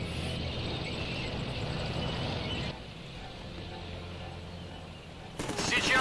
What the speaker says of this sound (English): Rocket artillery is coming over point, and mortars coming over to them.